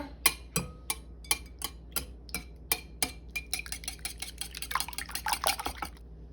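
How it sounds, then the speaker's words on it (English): Eggs, eight large ones, being beaten in a bowl for a breakfast casserole: a run of sharp, rhythmic clinks of a utensil against the bowl, starting spaced and speeding into a faster, busier whisking toward the end, close and without talk. "I'm just gonna beat these eggs together."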